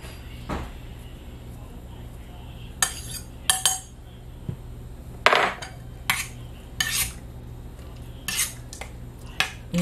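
A spoon scrapes and clinks against a bowl of chia pudding with banana slices, several separate sharp metallic taps spaced irregularly, close and fairly loud.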